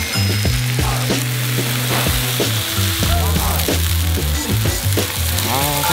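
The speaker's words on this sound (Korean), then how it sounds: "여기다가 김치 구워 먹어야 제맛이지" Kimchi sizzles loudly and steadily in rendered pork belly fat on a grill at an old butcher-shop restaurant, with crackles and pops throughout and some clinking and scraping mixed in.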